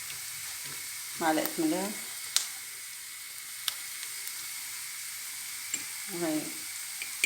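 Onion frying in a pan while cooking octopus gives a soft steady sizzle under a voice speaking Arabic, with a few light clinks of a spoon against the pan.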